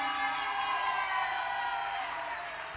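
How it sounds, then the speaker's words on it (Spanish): At a national women's music gathering, an audience cheers and applauds an accordion player. The crowd noise and whoops are fairly faint and distant, swelling briefly and then easing off. "Un aplauso para la negra Mexa en el acordeón."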